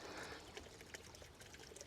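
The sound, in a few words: pouring milk into a garden inoculant mixture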